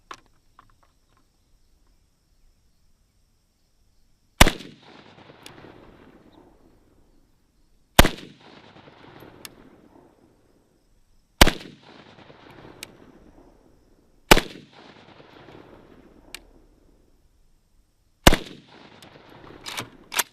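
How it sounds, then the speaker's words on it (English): Five sharp, loud shots from a Draco pistol at an outdoor range, evenly spaced a few seconds apart, each followed by a short echoing decay, with near-silence before the first shot. "So 5 rounds, here we go."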